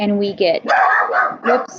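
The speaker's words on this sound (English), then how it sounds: "sorry, that was my dog barking" A dog barks nearby in a few loud, quick yelps that overlap a person talking through a math lesson.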